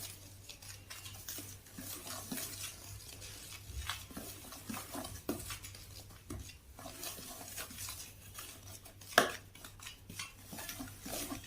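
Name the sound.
mixing homemade detergent ingredients in a bowl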